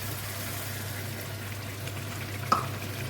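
Onions simmering in sauce in a cooking pot, a steady low sizzle and bubbling hiss at a quiet level, broken by one brief clink near the end.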